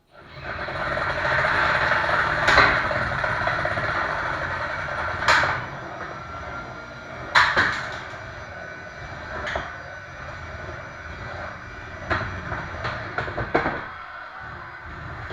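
Horizontal spinner weapon on a 1.36 kg combat robot in an arena fight, a loud whirring spin-up followed by repeated sharp clanks and rattling impacts scattered over the rest of the bout.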